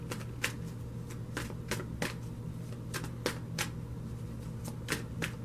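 Tarot cards, including an angel romance deck, are shuffled and drawn by hand in quick, irregular flicks and snaps over a low background hum, close and fairly quiet with no talk.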